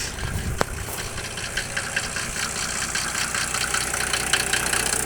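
A 1995 Mercedes-Benz W140 engine idles steadily with a continuous low rumble and mechanical whir, close by, with one brief click near the start.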